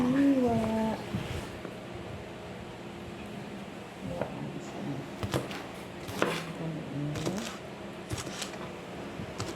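A knife slices green beans into small pieces on a cutting board, with scattered irregular chops and taps among quiet kitchen handling noise, beside a voice speaking softly.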